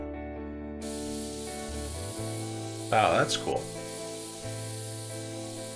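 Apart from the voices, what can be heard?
red spray paint being sprayed in WoodWork Simulator video game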